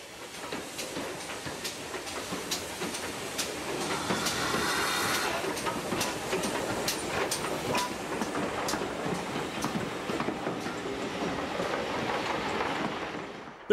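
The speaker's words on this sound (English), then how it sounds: "this is how panniers are best remembered, chuffing quietly along a country line" Great Western pannier tank steam locomotive running along a country line, a steady rolling rumble with regular rail clicks and a hissing swell in the middle, fairly close and continuous, with no talking.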